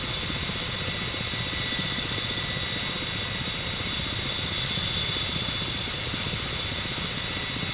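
A Ka-50 attack helicopter hovering in the DCS combat flight simulator gives off a steady, continuous rotor and turbine drone with a constant high whine, loud and unbroken throughout, with no voices.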